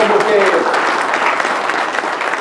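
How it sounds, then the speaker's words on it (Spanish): A church congregation applauds, with loud, dense clapping throughout and a brief voice at the start. "denle un aplauso al Señor"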